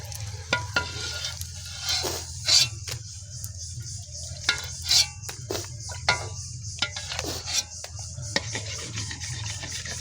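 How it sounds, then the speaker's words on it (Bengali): Fuchka puris frying in hot oil, a soft, steady sizzle with scattered sharp crackles and a few louder clatters, close and moderately loud, with no talking. "আমাদের ওদিকে ফুচকা কমপ্লিট ভাজা।"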